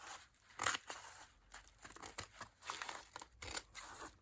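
Scissors snipping through soft fabric for a junk journal cover, a series of close, quiet crisp cuts and rustling crinkles in short bursts, with no talking.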